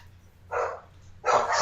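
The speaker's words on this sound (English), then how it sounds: "And you hear dogs barking." Dogs barking indoors in two short bursts, the second louder and longer, with no talk over them.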